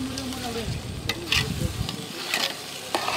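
Tomatoes sautéing in a pot for Tamil-style duck gravy, with a steady sizzle and scraping stirs close by, broken by clanks, and brief voices in the background.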